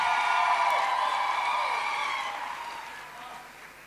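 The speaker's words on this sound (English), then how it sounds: "One final time, a round of applause for Kagiso Matlhaba." Audience applause with some cheering and whoops at a youth event in Botswana, loud at first, then fading steadily toward the end.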